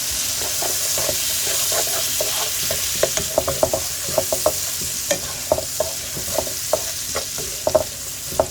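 Chopped onion sizzling in a hot pan, a steady frying hiss with scattered crackles and pops throughout, close by with no talking.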